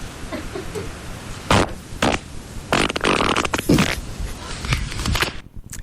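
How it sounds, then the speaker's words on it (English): A string of loud, close fart noises bursts out several times in quick succession, some short and sharp, others longer and wetter, in a radio studio. "it sounded like a stunt fart"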